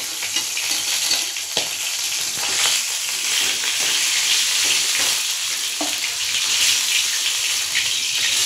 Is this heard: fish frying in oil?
yes